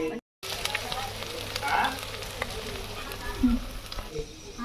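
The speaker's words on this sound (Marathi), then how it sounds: "थोडासा कोथिंबीर मी तेलामध्ये टाकून घेते" Fresh coriander dropped into hot oil on a wood-fired village stove while cooking a spicy country-chicken curry, giving a steady, crackling sizzle with a brief gap near the start.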